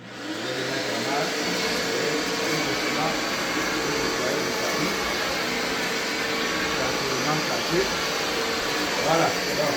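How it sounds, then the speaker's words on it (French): A semi-industrial carpet cleaning machine runs on a rug, giving a steady loud droning whoosh with a motor hum that holds unbroken for the whole stretch. "j'ai ma machine là. Voilà, je vais nettoyer mon tapis. Donc, je vais le mettre en marche."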